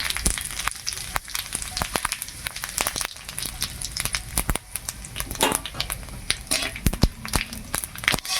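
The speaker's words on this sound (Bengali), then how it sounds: "ভালো করে ভেজে নিই 5 ফোড়ন আর লঙ্কাটা।" Panch phoron and two dried red chillies fry in hot oil, giving a busy crackle of sharp pops and spits over a steady sizzle, close and moderately loud throughout.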